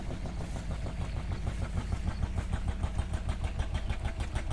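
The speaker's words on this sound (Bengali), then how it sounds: "এই যে ফরেস্টার যাইতেছে, ফরেস্টার জাহাজ।" Diesel engine of a forest department boat chugging past in the Sundarbans mangrove forest, Bangladesh, a loud, close, rapid steady throb that continues without pause.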